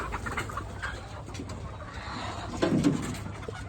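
Native desi chickens in a small poultry farm shed, with a steady murmur of birds throughout and a louder nearby burst of clucking near the end.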